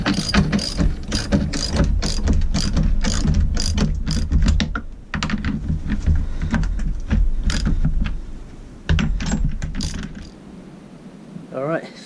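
A ratchet tightens stainless steel bolts on a micro hydro intake pipe fitting, with fast repeated clicking strokes in bursts separated by short pauses, heard close up.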